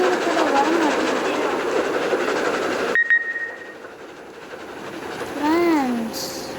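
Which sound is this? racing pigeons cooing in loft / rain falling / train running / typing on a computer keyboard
train running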